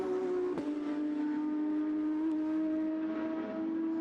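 A Porsche Carrera Cup race car on a slippery Lausitzring circuit holds a steady, loud engine drone as it pulls hard down the straight, its pitch staying high and sustained, with a brief sharp shift blip early on.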